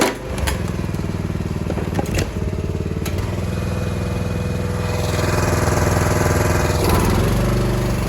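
Log splitter with a small engine running loud and close, a steady chugging drone with clanks and a rise in intensity partway through, no talking.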